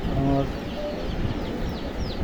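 Tiger chickens on a poultry farm give soft, scattered clucks and a few brief calls over a steady busy background, fairly close and continuous.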